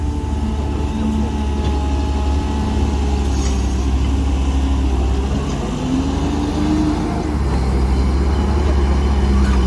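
A car engine runs during throttle calibration, a loud low rumble with brief rises in pitch, steady throughout with faint voices in the background.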